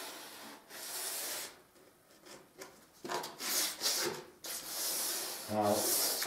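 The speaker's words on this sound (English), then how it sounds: "So then you rub down the woodwork," Sandpaper rubbed by hand along the edges of wooden woodwork, a dry scratchy rasp in uneven strokes of varying length, close by and fairly quiet, with short pauses between passes.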